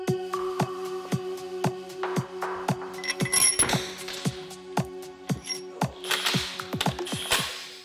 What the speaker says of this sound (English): We'll torque them down to 66 foot-pounds, then we'll do 89, and then we'll torque them another 90 degrees.